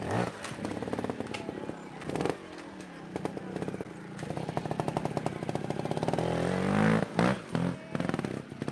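Trial motorcycle engine revving in bursts during a TrialGP event in Andorra, loud and close with sharp throttle blips and clattering, under shouted encouragement from spectators.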